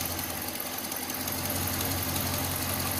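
A 5.7 Hemi truck engine idles with a steady, close mechanical hum and a faint, continuous rapid ticking running under it, no voices present.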